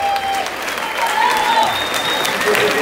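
Audience applause at a live concert in Weggis, steady dense clapping from a crowd throughout, with faint voices and tones mixed in.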